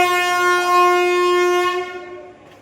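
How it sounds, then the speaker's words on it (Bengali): A train horn blares at a railway station at night as a train pulls in, one long sustained tone that holds steady and then fades away. "ট্রেন চলে এসছে।"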